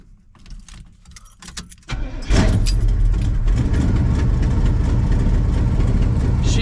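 An old stepside truck engine cranks unevenly for about two seconds, then catches and roars into a loud, steady run, close by.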